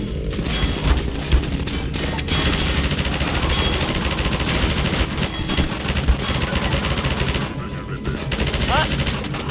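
Machine gun fire in Half-Life 2 rattles in loud, sustained bursts with scattered impacts and crashes, continuous through the scene while a voice talks over the shooting.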